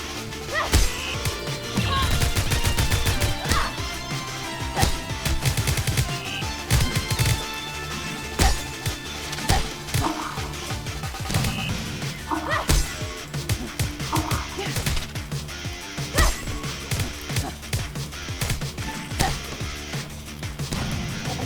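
Explosions and combat effects from the video game Vernal Edge: a dense, loud barrage of crashes, blasts and sharp impacts repeating throughout, with layered game music and effects and no talking.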